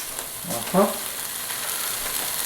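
Raw pork pieces hitting hot oil in a pan, a steady broadband sizzle with a brief louder crackle as each piece drops in, close and fairly loud, no talking.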